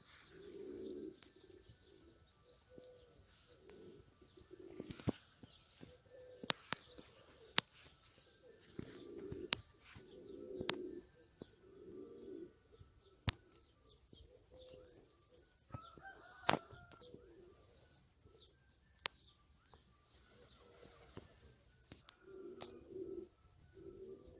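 Racing pigeons come back to their loft after a second training flight, with soft, repeated cooing and bird calls going on steadily at moderate distance. Occasional sharp clicks and taps break through, and no one speaks.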